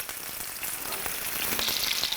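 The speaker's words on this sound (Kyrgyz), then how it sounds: "Тоогубузду кызаргыча бардык бетинен кызарта кууруп алабыз." Pieces of chicken fry in hot oil in a pan, giving a dense, steady sizzle with scattered crackles and pops throughout.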